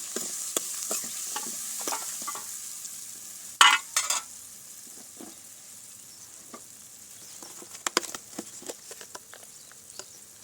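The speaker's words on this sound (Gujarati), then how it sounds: "તેની સાથે આપણે આ ટમેટા નાખી દેવાના છે ઝીણું ઝીણું કટિંગ કરી લીધું છે" Finely chopped tomatoes fry in a pan in a home kitchen, a soft steady sizzle broken by repeated scraping and tapping of a spoon stirring, close and alone without talk.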